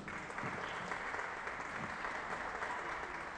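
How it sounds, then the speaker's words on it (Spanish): A small indoor audience at a bolero book presentation claps steadily, a dense, even wash of applause that continues unbroken throughout. "Un aplauso,"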